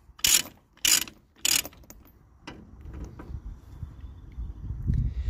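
A ratchet chain binder on a chain tie-down securing a machine under 10,000 lbs is cranked tight: three loud, sharp ratcheting bursts close up, followed by quieter clanks and low rumbling handling noise, with no talk.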